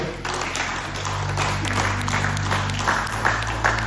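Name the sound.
congregation applauding after a sermon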